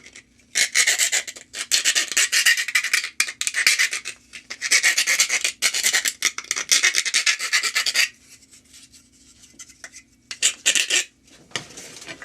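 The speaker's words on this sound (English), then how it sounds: "File, curved file." Someone rasps a curved file across metal while building a bell. The close, loud strokes come in bursts of rapid back-and-forth passes, broken by brief pauses and a longer gap near the end.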